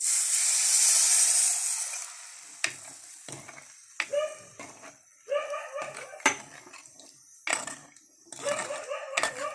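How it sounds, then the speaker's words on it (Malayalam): Soaked Malabar tamarind (kudampuli) is poured into hot coriander and spice powders for a fish curry, giving a loud, close sizzling hiss that fades within two seconds, followed by scattered spoon clinks and scrapes of stirring. "ഇനി ഇതിലേക്ക് നമുക്ക് കുതിർത്ത് വെച്ചിരുന്ന കുടംപുളിയും എല്ലാം കൂടി ഒഴിച്ചു കൊടുക്കാം"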